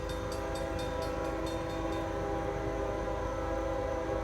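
CSX M692, a northbound coal freight of 140 cars over 8,000 feet long, rolls past at Jacktown in the rain, sounding its horn in steady blasts over a continuous loud rumble of wheels and cars.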